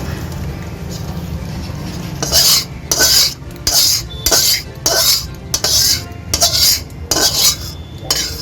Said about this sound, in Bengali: এবার মাছগুলো আমি সব একটা থালার মধ্যে ঢেলে নেব।